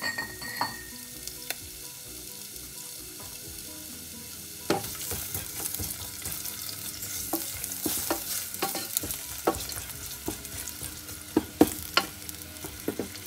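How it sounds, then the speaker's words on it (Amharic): Red onions fry in oil in a pan for an Ethiopian fish goulash, giving a soft, steady sizzle, while a utensil stirs and scrapes in repeated sharp clicks and knocks, growing busier partway through. "ከዛ በመቀጠል ቀይ ሽንኩርቴን አስገባለሁ።"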